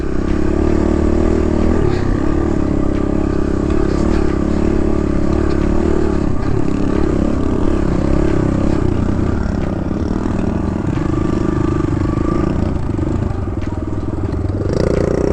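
A dirt bike rips along in second gear, its engine buzzing loud and close with continuous revving and clattering as the rider pushes on without letting up.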